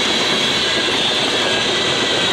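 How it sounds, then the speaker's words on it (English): Eastbound freight train on the Chicago Line running from Elkhart to Bellevue, a loud, steady broadband roar of cars rolling past close by, continuous for the whole stretch with no voices. "this is probably 13Q. Elkhart to Bellevue train."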